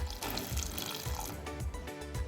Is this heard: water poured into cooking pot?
yes